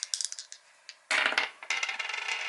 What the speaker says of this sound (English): I'm going to go ahead and roll the dice.